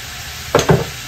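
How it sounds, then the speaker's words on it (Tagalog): Tomato and bell pepper sizzle in a pan as the base for beef caldereta, with two quick stirring scrapes and bursts of frying under a soft steady hiss. "At haluin po natin ng maayos."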